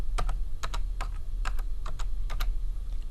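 Keys clatter on a computer keyboard as a spreadsheet formula is entered, close and crisp, in quick bursts of clustered strokes over a low steady hum.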